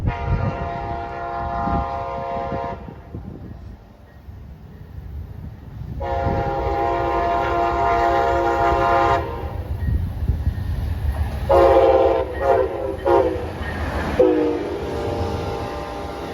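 An Amtrak passenger train running from Lakeland toward Tampa rumbles past close by, sounding its horn in several loud blasts, with a long wail and then shorter bursts over the steady rolling noise.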